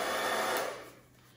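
A hair dryer blowing white acrylic paint in a Dutch pour painting, a loud steady whooshing airflow that fades and cuts off within about a second.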